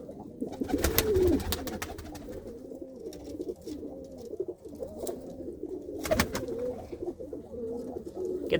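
Pigeons coo steadily in a breeding coop, with repeated soft, throaty rolling calls close by and a couple of sharper flutters or knocks.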